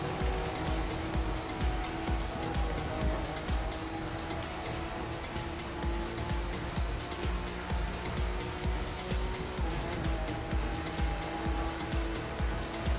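A touring car driving in The Crew 2, its engine a steady buzzing hum with tonal whine beneath rapid crackling texture, moderately loud and continuous with no talking.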